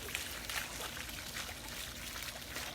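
Faint, steady trickle of water running in a garden, a soft continuous splashing wash with no voices.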